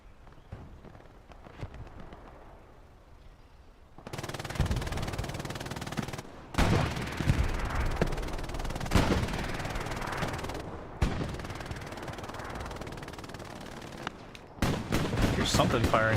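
Gunfire in the WWII shooter Hell Let Loose, starting quiet and distant, then loud bursts of rapid shots and rumbling fire from about four seconds on, broken by brief gaps.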